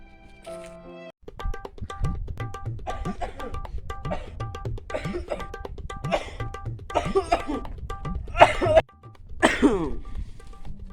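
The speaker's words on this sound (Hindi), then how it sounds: "कैसे खांसा था भाई?" A man coughs during a comedy sketch among friends, with harsh, abrupt bursts near the end rising over a busy background of voices and music, close and fairly loud.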